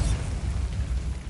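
A Bombarda spell detonates in Hogwarts Legacy on PS5, a loud, dense, low booming blast filling the whole short moment with rumbling energy and no voices.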